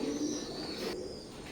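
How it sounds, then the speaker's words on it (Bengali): A pair of young KTM Teddy pigeons coos softly and steadily at close range, a low continuous murmur with a faint high whine in the background. "স্ক্রিনে এখন যে কবুতর জোড়া দেখতে পাচ্ছেন এটাও কেটিএম ব্লাড লাইনের একেবারে জিরো ফেদারের এক জোড়া বেবি"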